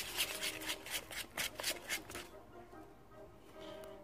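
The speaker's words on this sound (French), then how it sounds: "Je mets la maïzena et je remélange." Cornstarch being whisked into a cake cream mixture for a tarte tropézienne, quick close scraping and rubbing strokes in a rapid uneven rhythm that stop partway through, leaving a faint quiet background.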